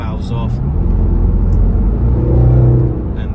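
A 2017 Range Rover Sport SVR 5.0L engine rumbles with the exhaust valves open, a loud, steady low drone from inside the cabin that swells slightly midway.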